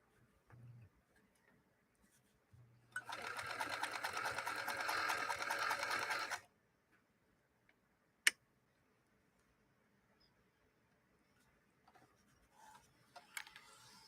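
Featherweight sewing machine stitching denim, a steady rapid whir-and-tick run of about four seconds that starts and stops cleanly in an otherwise quiet room, with a single sharp click a moment later.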